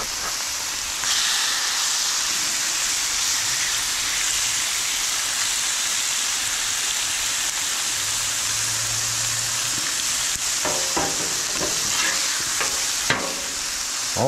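Deer steak and chicken sizzle steadily in a hot pan, a loud continuous frying hiss with occasional stirring clatter and scraping near the end.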